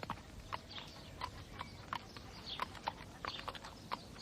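A mare's hooves clip-clop in a slow, even rhythm on firm ground, each footfall distinct and moderately close, with faint outdoor ambience and no talking.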